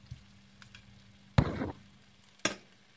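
Marinated pork in sauce, with no added oil, hits a hot pan: two bursts of sizzling, the first longer and louder, the second shorter, close by with no talk.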